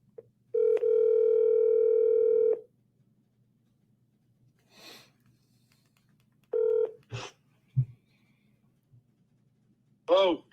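Telephone tones on an outgoing call: a long steady ringback tone, then a shorter one, followed by a few clicks and a brief electronic chirp, clear and close with no talk over them.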